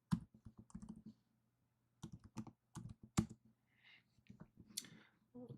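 Commands are typed on a computer keyboard in bursts of quick, close, fairly quiet key clicks, broken by short pauses. No voices are heard.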